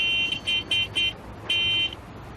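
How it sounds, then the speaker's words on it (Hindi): A car horn honks in a rhythm of four short beeps followed by one longer blast, moderately loud against quiet background noise. "हाय, ये हॉर्न, इसको भी यहीं बजाना है।"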